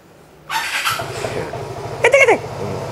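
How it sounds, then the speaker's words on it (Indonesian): A Vespa Sprint S scooter's electric starter gives a brief raspy crank, then the engine catches and idles, with a short higher rev-like burst near the end. "Itu hasilnya Vespa ya, starternya"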